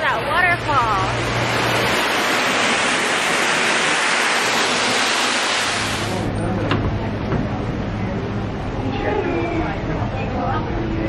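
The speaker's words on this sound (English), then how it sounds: "Look at that waterfall." A waterfall at the EPCOT Canada pavilion roars as a steady, loud wash of falling water, with people's voices mixed into the noise.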